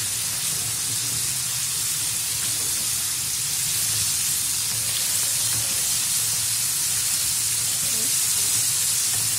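Chicken wings fry in hot oil with a steady, dense sizzle and hiss that runs unbroken and fairly loud throughout, with no voices.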